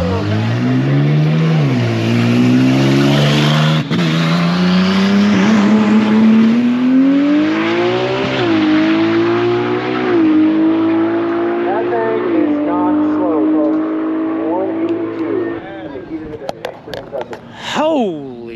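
A Nissan GTR race car makes a solo high-speed run, its engine note climbing through repeated gear changes in a long, loud, rising wail that fades at the end, with people talking over it.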